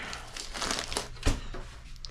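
Packing paper crumpled and crushed during an unboxing, a close, dense crinkling that runs throughout with a sharper crunch partway through.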